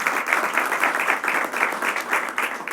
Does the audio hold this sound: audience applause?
yes